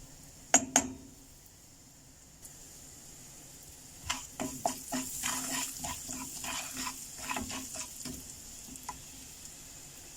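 Cumin seeds and asafoetida dropped into two tablespoons of hot oil in a kadai, a few early clinks and then a crackling sizzle with spattering pops that holds for several seconds, close and fairly soft, without speech.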